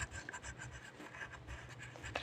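A blue pen scratches across paper while eyes are drawn for a homemade squishy, a soft, close, continuous scribbling with small strokes and no talk.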